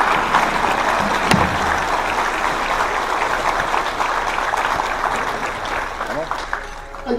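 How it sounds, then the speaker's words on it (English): Applause during a mayor's State of the City address held in a Baptist church: a continuous, loud crowd-clapping roar throughout, with voices talking underneath it. "So I'll give Mayor Johnson a round of applause"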